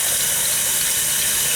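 An RV sink faucet runs at full flow in a 2024 Wildwood Heritage Glen 369BL travel trailer, a loud, steady hiss of water close by with no break and no talk.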